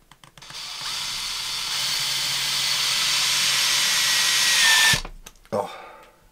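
A power drill drives a 3.5 x 20 screw into a drawer handle during drawer assembly, one continuous whirring run of about five seconds that rises slightly before stopping, followed by a brief knock.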